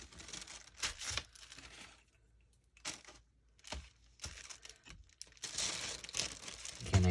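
Dress pattern tissue paper being pulled apart and torn by hand, giving close, faint crinkling and ripping bursts in irregular spurts with short quiet gaps, ending in a longer rustling tear.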